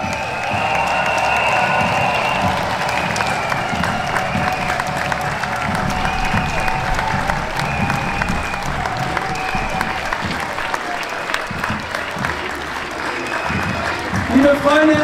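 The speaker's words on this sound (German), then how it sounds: "Das ist euer Applaus da drüben." Crowd applauding and cheering at a climate demonstration during the IAA in Munich, sustained loud clapping with scattered shouts and distant voices, fading slightly toward the end.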